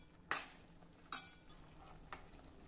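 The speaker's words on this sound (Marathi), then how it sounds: "आता हे मिक्स करूया आणि 2-3 मिनिट या सर्व मसाल्यांबरोबर ही भाजी पुन्हा थोडी शिजवून घेऊ" A metal spoon stirs vegetable curry with spices in a pan, with three distinct scraping clinks spaced about a second apart over a faint, quiet sizzle.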